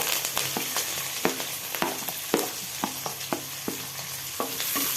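Chopped onion, green chili and curry leaves fry in hot oil for an okra kara kuzhambu, a steady sizzle broken by sharp clicks and pops of stirring and spattering, close and fairly loud with no voices.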